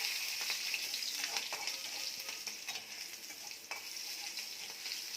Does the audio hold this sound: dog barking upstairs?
no